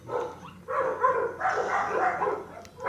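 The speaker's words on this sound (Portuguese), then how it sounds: "Não lembro desse cachorro" A dog in the video game Looney Tunes World of Mayhem barks in a few short, close yelps and whimpers spread across a few seconds, with no talk over it.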